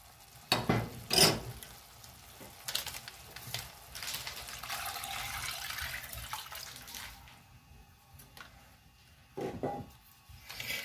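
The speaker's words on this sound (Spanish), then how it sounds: "Ahora vamos a agregar el agua y el sobrecito de sazonador." Water and a seasoning packet go into a pot of rice with pigeon peas, giving a close pouring splash, a hissing simmer and some stirring clatter, with a few louder bursts.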